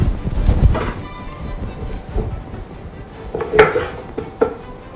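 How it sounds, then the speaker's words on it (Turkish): Knife taps and clicks on a cutting board, irregular and close, dicing sucuk sausage into small cubes amid faint kitchen clatter. "Sucuğumu küp küp doğruyorum."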